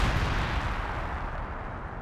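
Mortar shells land in a strategy video game as a dense, rumbling barrage of booming impacts, loud and continuous before fading slightly, with no voices.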